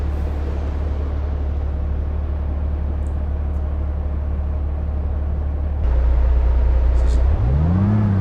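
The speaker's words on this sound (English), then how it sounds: "Great sounding truck." A heavy Volvo FH 2013 truck engine in Euro Truck Simulator 2 rumbles steadily, then revs up louder with a rising and falling pitch near the end.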